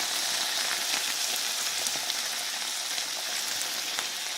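A sausage and rice mixture with medium picante sauce simmers in a small 4-inch skillet, giving off a steady, even sizzle and crackle at close range with no talking.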